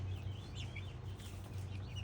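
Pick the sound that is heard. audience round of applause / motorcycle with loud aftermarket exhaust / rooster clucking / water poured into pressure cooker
rooster clucking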